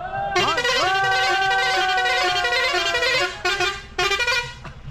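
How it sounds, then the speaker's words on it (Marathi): A loud vehicle horn blares close by in one long, sustained honk, breaking off briefly twice near the end before resuming, at a traditional Ganesh immersion procession in Konkan. "हॉर्न"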